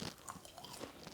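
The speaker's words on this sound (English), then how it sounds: "That's so crunchy and sweet" A few crisp crunching bites close up into a sweet elderflower treat dusted with icing sugar, brittle cracks followed by soft chewing, with no talking.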